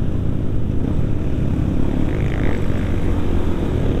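A Yamaha WR155R motorcycle engine climbing uphill with a faltering carburetor gives a steady, loud droning rumble, with a broadband roar throughout and no talk.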